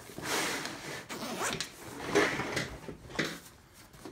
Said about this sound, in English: Zippers seem very durable.